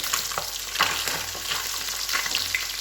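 Fish frying in a home-kitchen pan gives a steady, loud sizzle and crackle throughout, with occasional scraping stirs and no voices.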